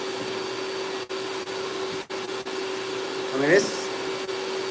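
An Eastwood Contour DSB vacuum sanding block runs with its vacuum attached, a steady close droning whine under a man's brief speech and a rising squeak near the end.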